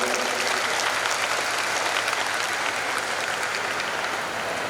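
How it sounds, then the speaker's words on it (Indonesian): Steady, sustained applause from a large crowd at a university national defence ceremony in Indonesia, a dense wash of clapping that holds evenly throughout. "Tepuk tangan untuk beliau berdua."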